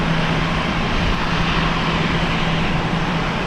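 A Delta Airbus A321 arriving at Minneapolis airport produces a loud, steady broadband jet roar with a low hum running underneath, constant throughout and free of speech.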